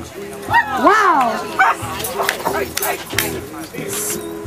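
A dog at an outdoor event yips and whines in short rising bursts with some barks, fairly close, while a crowd and people talk and cheer around it.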